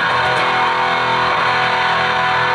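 A loud, sustained, heavily distorted electric guitar tone through a Rockteck distortion pedal, ringing continuously up close, thick and saturated with no talking.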